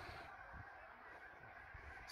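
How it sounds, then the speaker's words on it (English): Faint honking from a large flock of Canada geese outdoors in Abernathy, Texas, a few distant calls over a low background. "I think I got hundreds of Canadian geese watching me"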